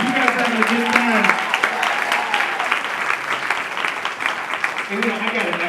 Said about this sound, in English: give everybody a round of applause so far